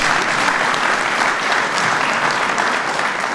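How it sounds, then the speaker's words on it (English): A political audience at a fatherhood event gives a dense, steady round of applause, loud and sustained from start to finish with no talk over it. "Give him a round of applause anyway."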